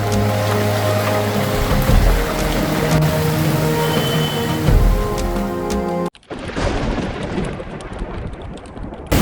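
Broad, steady roar of the swollen Ganges in heavy monsoon rain at Haridwar, loud and continuous, with a sudden cut partway through to a quieter wash of water and rain.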